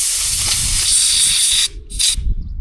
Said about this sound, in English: So now we're down here at the wee nozzles, and I'm just going to blow these all out.